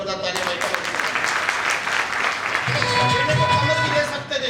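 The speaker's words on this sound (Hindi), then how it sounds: "जोरदार तालियां" An audience at a company training seminar breaks into loud applause, a dense burst of clapping while a speaker talks over it.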